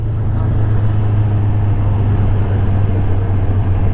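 Steady, loud roar of many vehicles streaming along an expressway, heard while riding a motorcycle at speed, with a constant low rumble and broad road and wind noise throughout.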